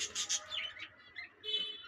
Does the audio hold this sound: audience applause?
no